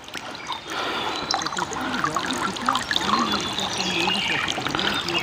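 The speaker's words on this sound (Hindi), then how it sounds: "प्राकृतिक कुदरत का देन है झरने का पानी।" Water from a forest waterfall in rain-season Bastar trickles and pours steadily, with a splashing, broadband wash that stays even throughout and is fairly close.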